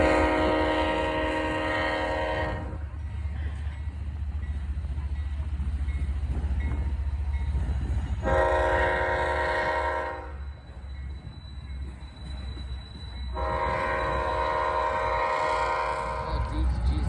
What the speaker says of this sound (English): in screeched CSX M215, turning the Y under the CSX Toledo subdivision